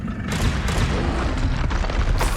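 In the video game Hogwarts Legacy, a Confringo blasting spell goes off as a loud, close explosion with heavy low rumble and a dense burst that carries through the whole moment.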